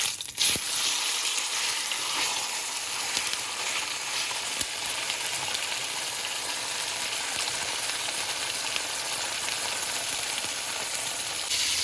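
Steak frying in hot oil in a pan, a dense, continuous sizzle and crackle that holds loud and steady throughout with no talking.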